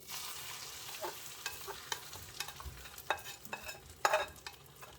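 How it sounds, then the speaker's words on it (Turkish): Lettuce omelette mixture going into a hot frying pan, a steady broadband sizzle with scattered sharp crackles and pops, moderately close and continuous, no voices. "şimdi marullu omletimizi tavamıza döküyoruz"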